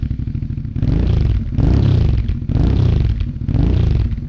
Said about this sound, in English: So that is the baffle out sound.